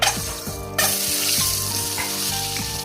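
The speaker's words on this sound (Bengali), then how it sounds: "তেল গরম হয়েছে, একটু হলুদ দেবো ডিম ভাজার জন্য" Eggs fry in hot oil seasoned with turmeric in a wok-style kadai, giving off a loud, steady close-up sizzle with crackling pops throughout and no voices.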